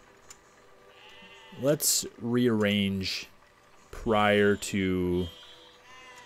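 Sheep bleat in the physics building game Besiege, with two long wavering cries close up and a few shorter ones around them, while someone talks over the game sounds.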